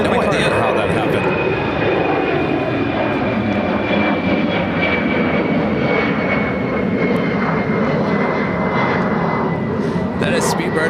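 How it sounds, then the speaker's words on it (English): A British Airways Boeing 777-200ER at Chicago O'Hare produces a loud, steady jet-engine roar with a high whine, continuous and close, while people talk faintly underneath. "That is Speedbird British Airways Flight 9490. Heading back to London Heathrow 777-200ER."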